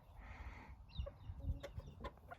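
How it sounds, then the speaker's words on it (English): Japanese bantam chickens in their pen give a few soft, close clucks, short irregular calls over a quiet background with light rustling. "Our little Japanese bantams."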